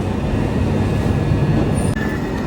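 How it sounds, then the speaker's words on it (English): A train arrives at a railway station platform with a loud, close, steady rumble of wheels and carriages, and a faint brief squeal near the end. "Here is the train."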